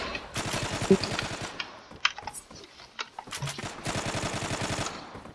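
Machine gun fire in the online shooter Zula, heard as rapid, loud bursts of rattling shots that stop and restart several times, with short pauses between volleys.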